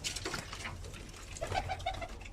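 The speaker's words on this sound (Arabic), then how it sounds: "هاي باقي الطيور." Pigeons coo softly in short repeated phrases on a rooftop loft, with faint rustling and distant background noise.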